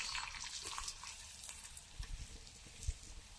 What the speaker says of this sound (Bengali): পরোটা ভাজা হচ্ছে, কড়াইশুঁটির পরোটা